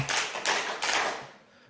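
Three hand claps sound close and crisp in an even rhythm, each one sharp and then fading, the last trailing off into a room.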